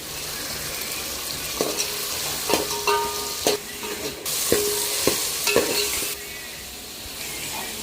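Tomatoes sizzle steadily in a hot pan for pulao, with a loud continuous frying hiss, sharp utensil taps and stirring clinks against the pan at irregular intervals, and no talk.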